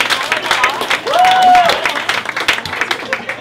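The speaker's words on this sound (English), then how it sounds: "give me a round of applause." A live podcast audience claps and cheers in a brief, dense burst of applause, with voices mixed into the crowd noise.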